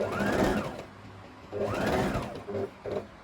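A sewing machine stitches a half circle flare maxi skirt in fabric, heard as fast, close whirring runs of stitching. Two longer bursts are followed by two brief short ones, with no talk over them.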